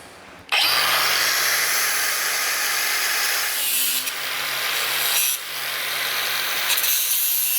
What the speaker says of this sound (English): Now we're going to cut that with a grinder,